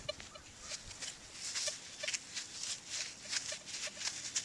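A Blisstool metal detector chatters from electromagnetic interference beside power lines in extremely trashy ground: faint, irregular tonal blips scattered over a crackly, hissy background with no voices.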